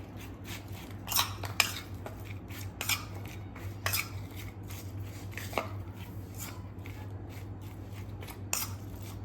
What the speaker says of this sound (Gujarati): હવે આપણે મિક્સ કરી લઈશું બધી ડુંગળીને.